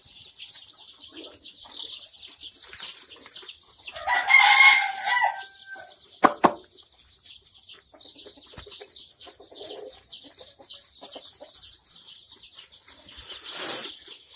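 Kadaknath and desi chickens on a free-range farm cluck on and off throughout, with a loud nearby rooster crow in the middle and more crowing near the end, plus small scattered bird calls and no talking.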